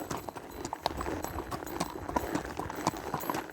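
Horse hooves clip-clop steadily on hard ground at a state park trailhead, a continuous rhythmic series of close, distinct knocks with faint outdoor ambience behind them.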